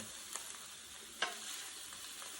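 Onions and sweet peppers caramelize in a pan, giving off a soft, steady sizzle and hiss with a few faint pops and clicks, quiet and continuous throughout.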